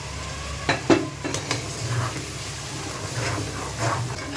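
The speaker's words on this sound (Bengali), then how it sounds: "আবার একটু আমি গরম জল অ্যাড করছি।" Hot water poured into masala frying in a pan, a steady close sizzle and hiss with a few sharp clinks and stirring scrapes near the start, continuing evenly without talk.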